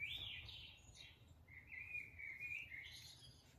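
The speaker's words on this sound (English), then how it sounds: "So gentle sounds of the birds singing" Gentle recorded birdsong plays from a children's push-button sound book: soft, high chirping phrases with a brief pause in the middle, faint and alone with no talking.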